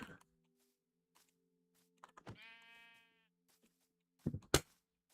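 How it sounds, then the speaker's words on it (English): A sheep in Minecraft gives one clear wavering bleat after being punched, set among short game clicks and thumps in otherwise quiet surroundings. "I just punched a sheep because I felt like it."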